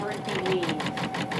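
A sewbot automated sewing machine runs with a steady, rapid mechanical stitching rhythm, fairly close and continuous, while a voice talks over it.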